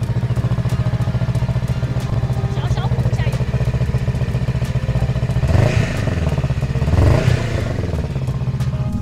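A Honda Rebel 500 motorcycle fitted with a modified dual-outlet exhaust idles steadily and close by, a deep even rumble with a couple of brief throttle blips; voices are heard over it.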